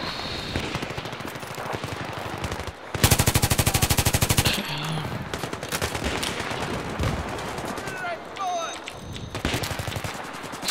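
Bursts of automatic gunfire from Battlefield 4 combat on the Dawnvand Peak map: a dense, loud sustained volley stands out midway, with scattered shorter shots before and after, and some speech underneath.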